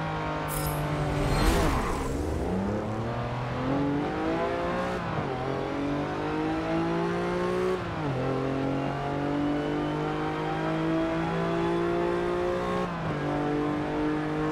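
A Chevy Colorado pickup in Forza Motorsport 7 drones close and loud, climbing through the revs and dropping sharply at each gear change in several long upshift cycles, with no talking over it.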